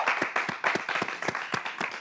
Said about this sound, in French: Ça aussi, ça s'applaudit.